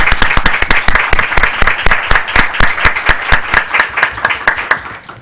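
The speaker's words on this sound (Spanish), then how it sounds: "Yo quisiera que le diéramos un gran aplauso," Loud, close applause from a symposium audience, with a strong rhythmic clapping pulse running steadily through the whole stretch.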